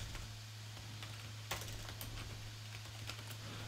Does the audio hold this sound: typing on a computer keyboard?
yes